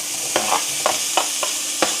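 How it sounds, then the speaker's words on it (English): Sausages and onion fry in a pan with a steady broadband sizzle throughout, broken by about five short scraping stirs spaced unevenly across two seconds, close and fairly loud with no talking. "We're gonna cook our sausages and onion first"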